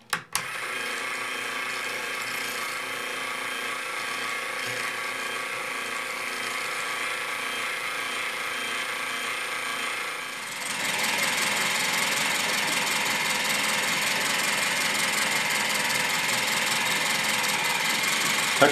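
A small coil winding machine running on 1.5 volts gives a steady whirring, buzzing mechanical hum that grows louder and brighter about halfway through and then holds constant, no voices.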